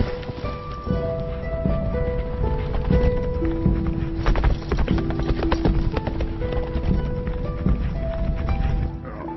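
Horses' hooves clip-clop in a steady, busy rhythm amid a dubbed Chinese movie scene, moderately loud and continuous with music-like tonal layers underneath.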